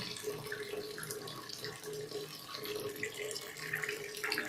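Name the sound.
water flowing through pipe, valve and flow meter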